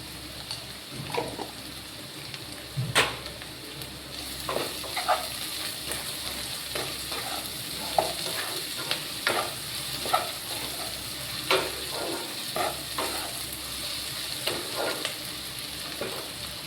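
Potato pieces fry in oil in a pan, giving a steady close sizzle with occasional spatters and stirring clinks throughout, with no talking.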